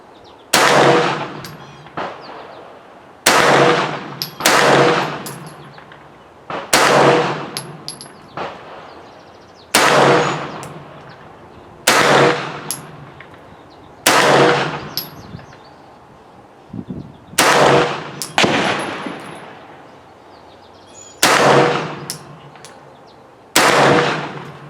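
Loud rifle shots from a Palmetto State Armory PSA AKV carbine at an outdoor shooting range, about a dozen sharp cracks fired one at a time at uneven intervals, each followed by a brief ringing decay.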